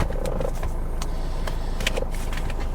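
A cheap, high-mileage Lexus IS engine idling roughly with its engine warning light on, a steady uneven mechanical drone with a few brief higher-pitched squeaks on top, no voices.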